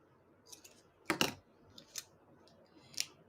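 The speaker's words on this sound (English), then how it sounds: "I'm going to cut that in half." Scissors snip through a sparkly paper snowflake craft piece, cutting it in half with a few quiet, close clicks and one sharper, louder cut near the middle.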